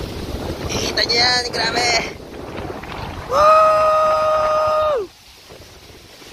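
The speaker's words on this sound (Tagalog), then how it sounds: "Yan ang hangin." Strong wind buffets the microphone in gusty, broadband rushes through the first half, with people talking and exclaiming under it before a loud sustained tone cuts in.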